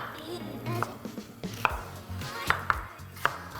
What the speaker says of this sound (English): I will chop one onion